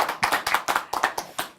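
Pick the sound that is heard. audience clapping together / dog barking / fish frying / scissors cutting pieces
audience clapping together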